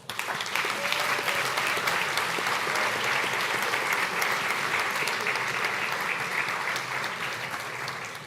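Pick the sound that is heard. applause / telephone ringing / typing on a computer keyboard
applause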